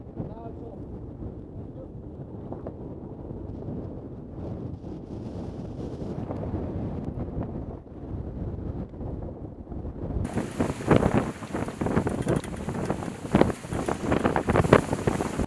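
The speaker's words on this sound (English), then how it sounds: "looks like there's about the same amount of wind" Wind buffets the microphone continuously at sea aboard a Contest 49CS sailing yacht, rumbling and gusting, growing rougher and louder toward the end.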